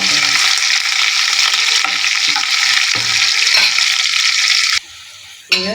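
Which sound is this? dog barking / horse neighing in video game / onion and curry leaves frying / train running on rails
onion and curry leaves frying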